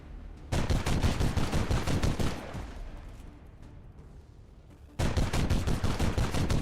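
Gunfire in the video game XCOM 2 with a Warhammer 40k mod: rapid bursts of loud automatic shots, a lull with lower rumbling, then another dense volley of rapid shots.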